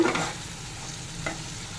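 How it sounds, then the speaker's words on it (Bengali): Fried spice masala for a boal fish curry with potatoes, stirred in the pan after water is added: a soft, steady sizzle with a couple of brief scraping strokes, close and moderately quiet. "এবার একটু জল দিয়ে দেবো, একটু নেড়ে নেব।"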